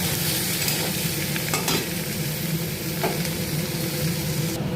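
Chicken sautés in a hot pan with a loud, constant sizzle and a few scraping strokes as it is stirred.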